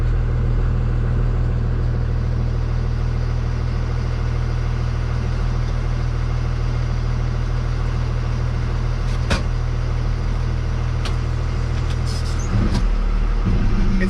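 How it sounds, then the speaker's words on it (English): An RV camper van drives a slow loop around a yard, its engine a steady close mid-range drone throughout, with a few brief clicks and knocks near the end. "we're just gonna take it for a quick little run around the yard real quick."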